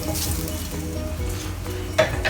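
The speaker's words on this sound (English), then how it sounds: "I'm going to pan fry the Chinese sausages" Chinese sausages pan frying in their own rendered fat over very low heat, a steady close crackling sizzle with a brief stir or clink near the end.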